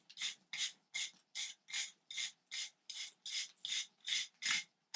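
A wire brush scrubs lime mortar off stones in about a dozen evenly paced back-and-forth strokes, each a close, gritty scrape with brief gaps between them.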